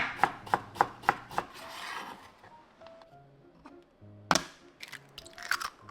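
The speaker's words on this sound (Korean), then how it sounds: "당근은 길게 채 썰어 준뒤 최대한 잘게 잘게 다져주세요" A knife finely chopping julienned carrots on a cutting board, first five sharp evenly spaced chops, then a quiet pause, then a louder burst of quicker irregular chops, all close up.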